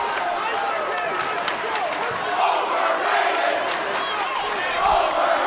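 Crowd noise in a gym during a girls high school volleyball state final, Wayzata versus Eagan, a steady dense roar of cheering and chanting voices running throughout, fairly loud with a brief swell near the end.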